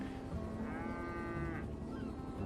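A single drawn-out cow moo in the video game GTA 5, on a modded obstacle course, fairly close and clear above a busy game-sound background.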